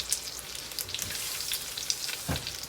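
Mushrooms sizzle and crackle steadily in a hot pan, with a brief scrape or stir partway through.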